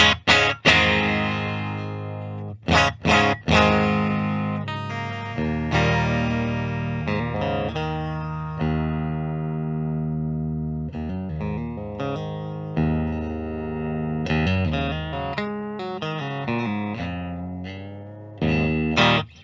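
A 2022 PRS Silver Sky SE electric guitar on the bridge pickup, with a bright, twangy tone, plays strummed chords and picked notes with short pauses, moderately loud and clean with slight shimmer.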